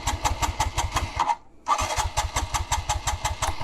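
TVS Stryker 125 motorcycle nearly out of fuel, its engine cranking and chugging in a rapid regular rhythm, briefly cutting out, then catching again and puttering on up close.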